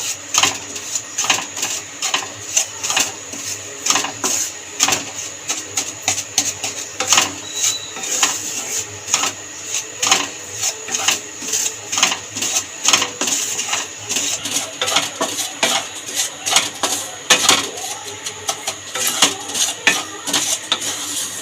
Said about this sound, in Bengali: নেড়ে চেড়ে ভাজতেই থাকবো সুজিটাকে কন্টিনিউ ভাজতে হবে